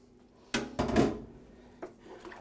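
A utensil stirs garbure soup in a cooking pot, giving a few knocks and scrapes against the pot, the loudest clatter in the first second, then a quieter bump.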